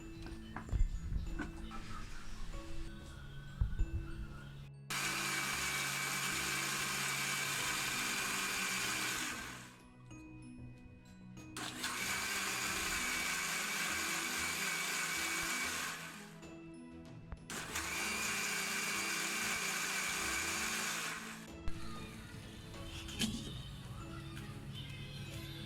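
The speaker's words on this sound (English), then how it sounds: "Grind them with small intervals like this so you don't overdo it" A mixer grinder blends tomato chutney in three short bursts, each a loud, steady whirring roar several seconds long, separated by brief pauses with quieter kitchen clatter before and after.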